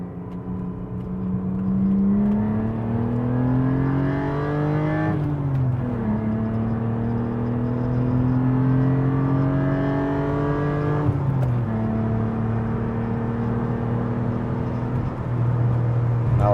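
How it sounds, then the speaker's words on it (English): A 1999 BMW E36 M3 at wide open throttle heard from inside the cabin, the engine note climbing steadily through two gear changes with brief dips between rising pulls, loud and close. "We'll do a wide open throttle pull, turn off the air so it gets all the sound in here."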